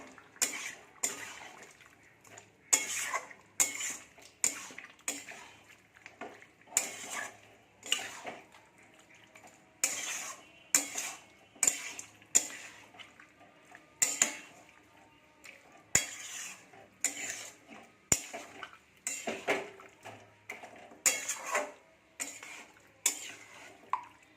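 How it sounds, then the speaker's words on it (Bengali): Chicken being stirred and sautéed in a pan, a metal spoon repeatedly scraping and knocking against the pan in irregular bursts over a faint background sizzle, without talk. "দেখি আর একটু কষাবো"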